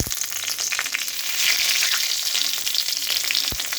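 Bay leaf, dried red chilli and whole garam masala spices frying in hot oil for chire pulao, a steady close crackling sizzle with a sharp pop near the end, no voices.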